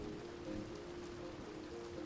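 Steady rain falling outdoors, an even, faint hiss with soft drop patter and a low hum, continuous with no voices.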